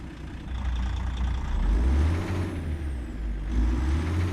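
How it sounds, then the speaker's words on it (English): An FLX 359 semi-truck diesel engine in American Truck Simulator, a steady low rumbling drone that swells slightly as it pulls, fairly quiet and continuous with no talking. "got that old engine in there that kind of sounds like a work truck engine"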